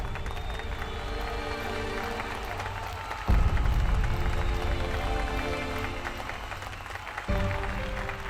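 A studio audience on a French TV show claps continuously for a contestant, a steady wash of applause mixed with background music that rises briefly midway.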